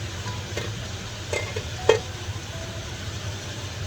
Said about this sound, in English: So guys, I'm going to let this fry